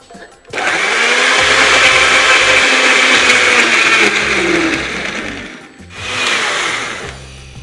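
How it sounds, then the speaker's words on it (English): A blender whirs loudly and steadily for several seconds, cuts out briefly, then starts up again. "this is a blender"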